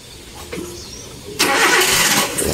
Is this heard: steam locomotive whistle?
no